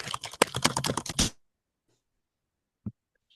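A burst of rapid computer keyboard typing, close and fairly loud, runs for just over a second with dense clicking keystrokes, then falls silent apart from one faint later click.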